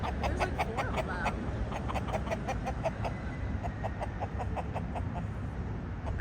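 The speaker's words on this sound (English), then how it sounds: "Hey, chickens." Several chickens cluck close by from up in a tree, short repeated calls in an uneven rhythm over a low background rumble.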